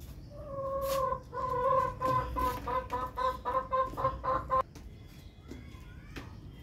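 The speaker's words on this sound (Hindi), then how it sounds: "तो बेचारी मुर्गियाँ और ये हमारे सोनू बहुत देर से खुलने का इंतज़ार कर रहे हैं।" Hens in a coop cluck repeatedly in a busy, overlapping chorus, close and fairly loud, with tonal calls rising in quick succession before fading to scattered sounds.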